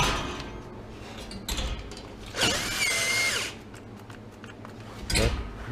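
A cordless drill backs bolts out of the fan in a refrigerated display case. It gives several short whirring bursts with clicks and handling noise between them, close and clear, and nobody talks.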